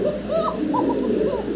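Fancy pigeons coo in a steady, close run of low throaty calls, several birds overlapping with little pause in a room with a faint background hum.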